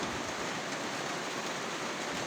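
Rain falling steadily and blowing in on the wind, a continuous broadband hiss that stays even and close with no voices over it.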